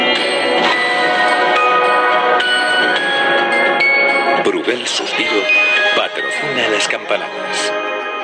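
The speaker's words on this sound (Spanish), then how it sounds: "Campanadas." Bells chime for New Year's Eve, ringing repeatedly and clearly while people talk over and between the strokes.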